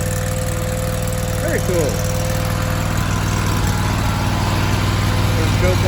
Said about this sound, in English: This one obviously has the V-twin in it. Come on now. Look at that. Good runner. First start.